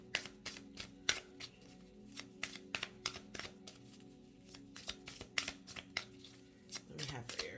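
Spirit Allies oracle cards are shuffled by hand in a quick series of crisp riffling flicks and taps, close and fairly quiet, while someone talks over them.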